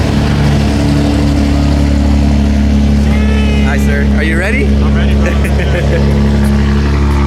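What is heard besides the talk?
car exhaust revving loudly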